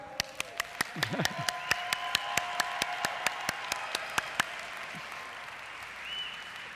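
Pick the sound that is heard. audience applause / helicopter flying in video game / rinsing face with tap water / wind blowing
audience applause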